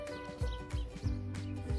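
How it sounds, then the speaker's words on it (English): A friendly miniature donkey on a farm makes a few low, short grunting snorts and soft hoof clops close by, in a steady outdoor hum. "It's a donkey. It's a miniature donkey."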